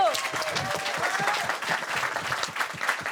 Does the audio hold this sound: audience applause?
yes